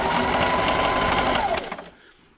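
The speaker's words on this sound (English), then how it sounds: "So I'm going to backstitch, and I'm going to do it about 2 or 3 times." A sewing machine runs in a fast, steady mechanical chatter while backstitching a table runner seam, then stops abruptly near the end, leaving quiet, close up with no talking.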